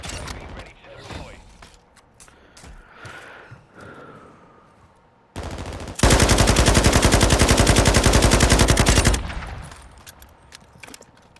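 Game gunfire bursts through a wall in a military shooter, one short crack then a loud sustained automatic burst of about three seconds, with talk and quieter sounds before and after.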